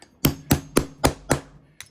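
A hammer taps a punch through a motorcycle seat strap during a restoration. Five even, close knocks land about a quarter second apart, followed by a pause and a lighter double tap.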